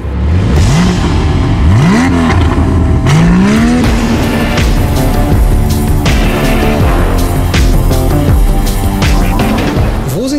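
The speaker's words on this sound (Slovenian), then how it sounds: "Dame in gospodje, to je Porsche Panamera." Porsche Panamera 4S E-Hybrid sedan driving hard, loud engine rising and falling through repeated revs and gear changes with tire noise, close and continuous throughout, no talk.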